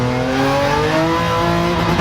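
A RUF CTR Yellowbird revving high in a racing video game, its engine note rising steadily and loud with tire noise underneath, continuous and up close throughout.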